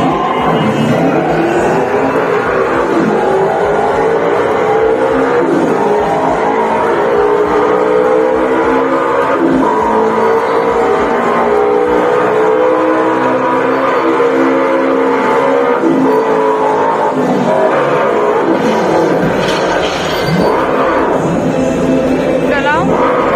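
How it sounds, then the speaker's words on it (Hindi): Arcade car racing game on a three-screen driving cabinet, with a continuous loud engine drone rising and falling in pitch as the car revs and accelerates, amid busy arcade noise and voices talking throughout. "तो मैं सबसे पहले ट्राई करने वाला हूँ कार वाला गेम, जो कि तीनों तरफ तो स्क्रीन्स लगी हुई हैं, सामने कार चल रही है"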